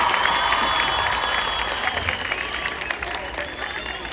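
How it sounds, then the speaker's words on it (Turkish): An audience at an open-air concert in Istanbul applauds in a dense, sustained wash of clapping from a sizeable crowd, holding strong throughout and easing slightly toward the end. "Şimdi Çok güçlü alkış istiyorum"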